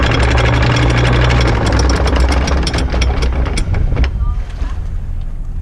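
Sailboat engine run at about 1600 RPM in hard reverse to set the anchor off Placencia, Belize: a loud, steady low engine drone with wind buffeting the microphone and people talking nearby.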